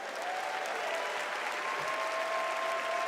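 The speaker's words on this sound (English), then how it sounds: "Let's give him a round of applause." Sustained audience applause fills a large hall at the Democratic National Convention, a steady wash of many hands clapping at an even level throughout, with no voices on top.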